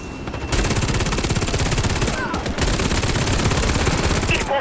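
Rapid automatic gunfire rattles in the shooter game Warface, loud and close, in long sustained bursts broken by a short pause.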